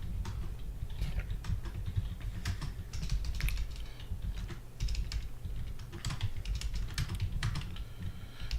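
A cat walks across a computer keyboard, producing a steady run of irregular soft key clicks and taps close by over a low background hum, with no voices.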